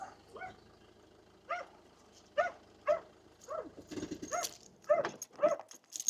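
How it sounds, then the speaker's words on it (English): A puppy gives a string of short, high yips and barks mixed with soft whimpers, fairly close, spaced irregularly with quiet gaps between. "Another wee puppy, Luna."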